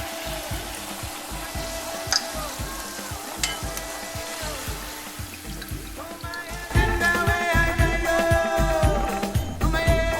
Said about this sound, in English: you're gonna fry this about 8 seconds on each side